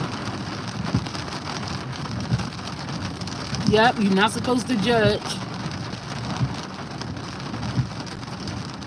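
Heavy rain drumming steadily on a car while driving, a constant wash of patter throughout, with a person talking briefly over it in the middle.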